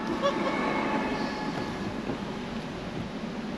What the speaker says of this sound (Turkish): Ha tren geçiyor, onu bekliyoruz.